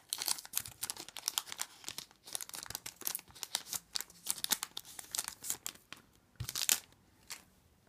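A Yu-Gi-Oh OTS booster pack wrapper is crinkled and torn open in repeated short bursts of crisp plastic rustling, close and fairly quiet, with brief pauses between tugs.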